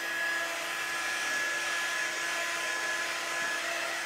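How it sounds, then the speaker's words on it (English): A hair dryer blowing continuously at a steady pitch, close by, with a constant airy whoosh and faint whine and no voices. "a hair dryer works as well"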